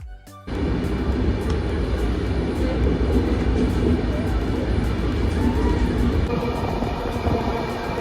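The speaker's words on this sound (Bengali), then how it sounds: "এখন আমাদের ট্রেন চলে এসছে" A train roars in abruptly after a brief quiet moment, then a sustained loud rumble of rail cars rolling continuously.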